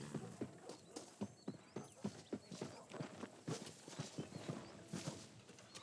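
Horse hooves clip-clopping in a steady walking rhythm during riding in Red Dead Redemption, faint and continuous with a little tack jingle, no talk.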